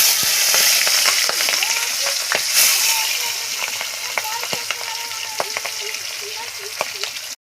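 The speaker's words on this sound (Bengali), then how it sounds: "কড়াইয়ে মাছগুলো দিয়ে ভালো করে মাছগুলো ভেজে নেব" Pieces of rohu fish frying in hot oil in a wok give a loud, steady sizzle that holds throughout, broken by occasional sharp spatters and pops before cutting off abruptly at the end.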